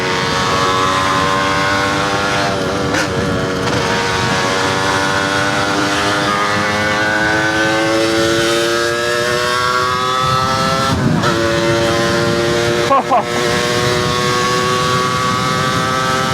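A 125 cc DTR motorcycle engine drones steadily while being ridden, its pitch rising and falling through gear changes, loud and close throughout with no voices.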